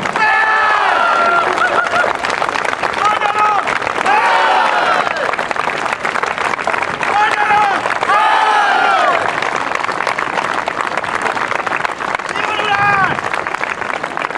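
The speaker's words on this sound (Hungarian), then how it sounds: "Köszönjük a tapsot!" Loud, sustained applause and cheering from an outdoor crowd after a Hungarian heritage association's falconry performance, with voices and shouts rising through it.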